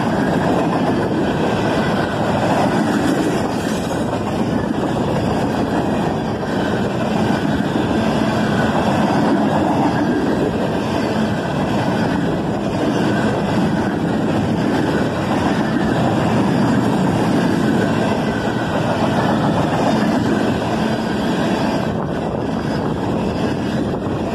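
BNSF freight train Q508 rolls past with a long cut of empty steel slab cars, giving a steady, loud broadband rumble and rattle that continues throughout, with some wind noise on the microphone.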